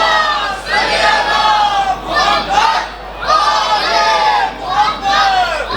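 Congregation at an imambargah loudly reciting salawat in unison, a dense chorus of many voices in rhythmic waves of chanting with short dips between phrases, close and filling the hall.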